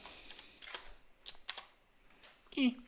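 A computer keyboard typing out a git tag command gives a few sparse, quiet key clicks scattered across a short, mostly hushed moment, with faint voice-like sounds mixed in.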